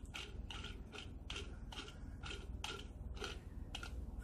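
Crank being turned on a toy dishwasher-shaped Japanese candy dispenser, a close, quiet series of plastic ratcheting grinds repeating in a regular rhythm about twice a second.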